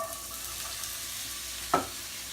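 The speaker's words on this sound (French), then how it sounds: "j'ai un grand sautoir qui est très chaud, quelques huiles, et on met des oignons" Onions hitting hot oil in a large sauté pan, a steady soft frying hiss with one brief louder clatter or sizzle burst near the end, no voices.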